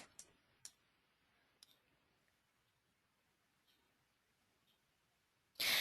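A computer mouse clicks a few times, sharp and close, with sparse single clicks spaced apart over a quiet background and a louder burst at the very end.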